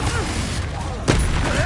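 A Confringo spell blast goes off in Hogwarts Legacy, a single sudden explosive burst cutting in partway through over steady game background noise.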